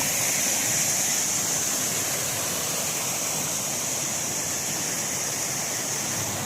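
A small waterfall beside a dam in Tiruppur, rushing in a loud, steady, broadband hiss close by with no pauses.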